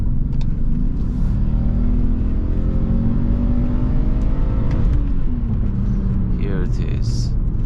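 An old BMW 530 accelerates through the gears, a loud close engine drone with rising pitch sweeps, a brief dip at a shift, and the car's interior rumble throughout.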